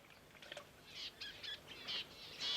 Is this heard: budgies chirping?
yes